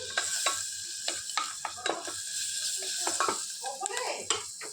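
Onion frying in a pan, a steady broadband sizzle broken by repeated scraping stirs and light clinks of a utensil against the pan, close up, with no talk.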